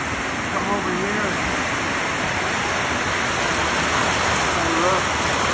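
Heavy rain drumming on a roof during a severe storm in a Hawaiian fern forest, a dense unbroken hiss with a faint steady electronic whine running through it.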